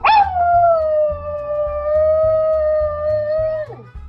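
A dog howls in one long, steady, siren-like wail that holds its pitch and then drops away at the end, close and loud over a faint low background.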